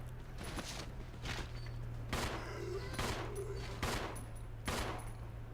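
Gunfire from Resident Evil 0 video game, six or so loud spaced shots cracking out about once a second against a steady low game hum while zombies are shot.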